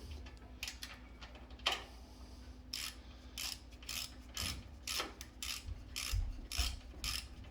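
A ratchet wrench with a 10mm socket working the oil drain on a 32-inch Scag V-Ride II mower: repeated crisp clicking bursts in a steady back-and-forth rhythm, close and fairly quiet over a faint hum.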